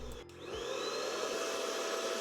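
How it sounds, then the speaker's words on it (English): A vacuum cleaner in a video game switches on and spins up into a steady, loud whirring drone with a high whine on top. "Sorry, gotta get the vacuuming out of the way. I hate vacuuming."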